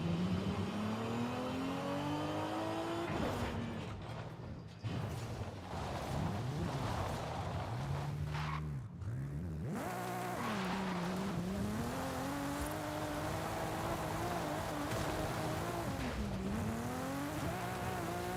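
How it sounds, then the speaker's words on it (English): A Toyota Supra in a video game drives off-road, its engine revving and surging through changing gears with bursts of tire squeal, loud and close with no talking. "We'll just take our Supra off-roading."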